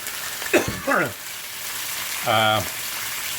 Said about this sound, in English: Hope you can hear me over all that sound of cooking.